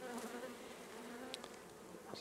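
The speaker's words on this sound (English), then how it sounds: "that's where the bees will be congregating to clean up the break that you've just made" Honey bees buzzing steadily around an open hive during a frame inspection, a dense continuous drone with a few brief closer passes, fairly faint.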